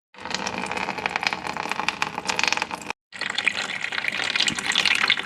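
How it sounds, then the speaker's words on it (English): Coolant gushing steadily from a Mitsubishi Evo radiator into a drain pan below, a loud continuous splashing pour that stops briefly and then resumes. "I'm gonna put a pan underneath, I'm gonna drain everything"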